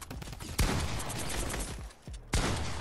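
A Fortnite drum gun firing rapid continuous bursts, loud and close, with two sharp heavy shots punctuating the stream of rattling fire.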